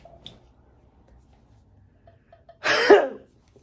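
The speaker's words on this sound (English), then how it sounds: "About to sneeze." A single sharp burst of sneeze-like noise erupts after a few seconds of near silence, close and loud, then fades quickly.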